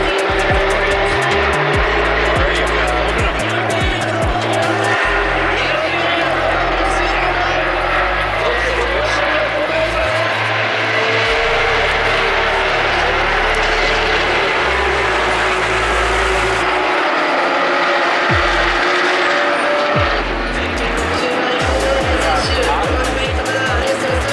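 Porsche Cup race cars roar past at a Formula 1 Japanese Grand Prix weekend, engines droning and shifting continuously throughout, with a commentator talking over the racing noise.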